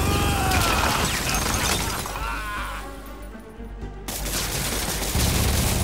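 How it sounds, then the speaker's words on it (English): A Gatling gun in a video game fires in long, dense bursts of rapid shots mixed with shattering and crashing effects, loud and close, with a short lull before the barrage resumes. "Oh no, he has a Gatling gun."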